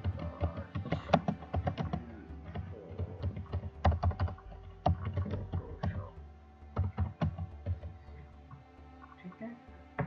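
Someone types a file name on a computer keyboard: close, irregular bursts of sharp key clicks with brief pauses over about ten seconds, with no talking.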